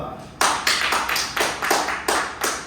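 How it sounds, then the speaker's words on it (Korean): A congregation at a weekday noon worship service claps together, eight or nine loud, sharp claps in a steady rhythm, starting after a short pause. "박수 한번 치겠습니다."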